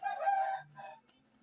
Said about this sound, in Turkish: Bakın arkadaşlar horoz ne kadar neşeli